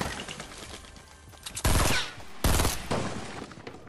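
Gunfire in the video game Fortnite comes as two loud bursts of rapid shots over quieter background game sound, each lasting about half a second.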